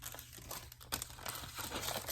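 A paper envelope is slid into a junk journal, giving close, quiet crinkling and rustling paper sounds in short irregular bursts.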